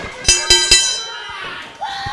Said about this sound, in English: Referee calls for the bell.